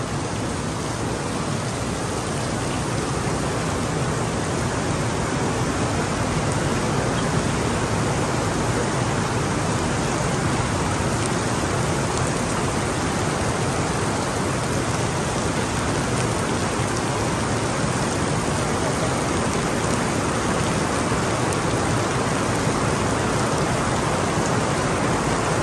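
Steady, dense rain falls at Sentosa beach in Singapore, a continuous broadband hiss of drops striking surfaces that holds at an even, loud level throughout with no voices.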